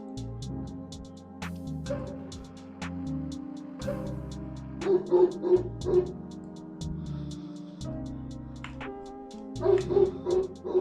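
A dog barks in short bursts a few times over music with a repeating melody; the barks come in clusters, fairly close and moderately loud.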